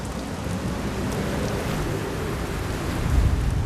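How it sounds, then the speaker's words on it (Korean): Rain falling on the deck of a sand lance fishing boat at sea, a steady dense hiss with low rumbling wind beneath, swelling slightly near the end. "예보에도 없던 비가 내리기 시작하고"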